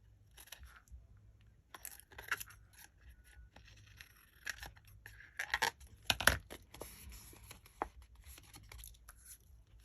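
Scissors snipping and slicing through jumbo playing card paper, a run of sharp close cuts and scrapes with brief pauses between them, no talking.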